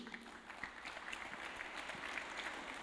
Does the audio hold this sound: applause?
yes